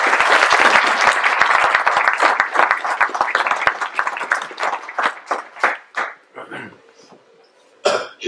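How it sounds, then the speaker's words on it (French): A hall audience applauds Téléthon volunteers at a French village mayor's New Year address, dense clapping that thins into scattered claps and a few coughs before fading out. "On peut les applaudir toute cette année."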